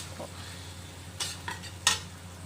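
Shrimp paste (alamang) sizzles in a pan of pinakbet on a low, steady fry, with a few sharp utensil scrapes and clinks as it is stirred in.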